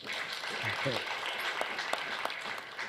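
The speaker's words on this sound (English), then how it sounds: "they deserve another round of applause" Applause from an audience at a malaria survey report launch event, moderately loud and continuous, with some voices mixed in near the start.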